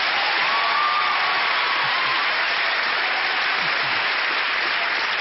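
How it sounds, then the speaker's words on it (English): A studio audience on a British TV prank show gives a big round of applause for a guest, heard as dense, steady clapping that fills the whole stretch at an even, loud level. "a really big round of applause for Stephanie McGee"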